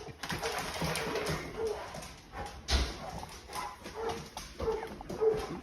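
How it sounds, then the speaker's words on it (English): A dog barks and whimpers in short bursts, with thin whining tones between the barks, moderately close and with no one talking over it. "let's take a look at this dog"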